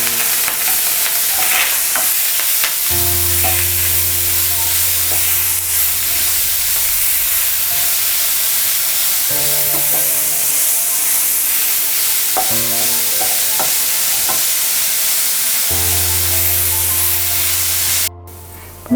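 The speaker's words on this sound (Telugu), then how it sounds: "పచ్చిమిర్చి వేగిన తర్వాత కొంచెం గ్రేట్ చేసి పెట్టుకున్న క్యారెట్ వేసుకున్నాం." Grated carrot and green chillies frying in a hot pan for fried rice, with a steady loud sizzle and hiss and intermittent scraping stirs, while a low hum comes and goes in the background.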